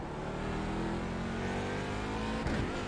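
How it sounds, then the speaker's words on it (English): A race car in the iRacing sim during Daytona 24 Hour practice: a steady, loud engine drone with shifting harmonic tones throughout, plus a brief sweep near the end as another car passes, no talk. "You can hear the car perfectly fine as well."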